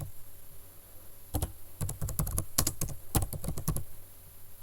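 Someone types on a computer keyboard nearby while scheduling a Zoom meeting, producing quick irregular bursts of crisp key clicks after a brief quiet start, with no talking.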